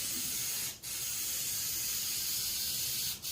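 An aerosol can of Iron Armor truck bed liner sprays onto a Geo Tracker hood in a loud, continuous hiss, cut by two brief pauses, close up with no talking.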